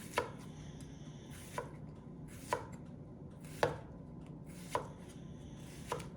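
A knife chops down onto a cutting board in six sharp, evenly spaced strikes over a quiet background hum.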